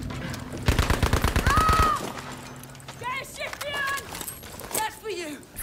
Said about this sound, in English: I'm already being shot at.